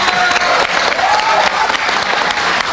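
Dense, sustained applause from an audience at an Indonesian talk on Pancasila and Islam, loud and steady throughout with many overlapping hand claps.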